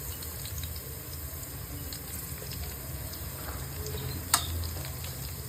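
Turmeric and puffed Byadgi chillies fry in an oil tempering, giving a soft, even sizzle throughout with one sharp click near the end.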